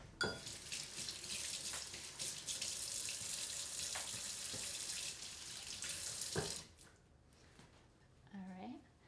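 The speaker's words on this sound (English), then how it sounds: "Let me wash my hands real quick." Hands washed at a kitchen sink tap while making a pumpkin dessert, a close steady gush of running water for about six seconds that stops abruptly, followed by faint handling sounds and a brief voice.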